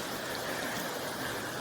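Rain falls in an FPS video game as a steady, soft, even hiss that continues without break for the whole moment.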